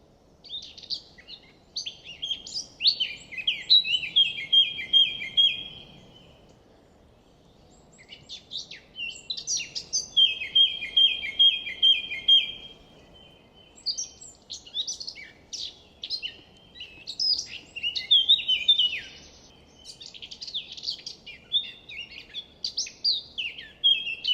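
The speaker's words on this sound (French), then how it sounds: "La fauvette à tête noire." A Eurasian blackcap sings in clear, nearby bursts of rapid warbling phrases with brief pauses between them, over faint background ambience with no voices.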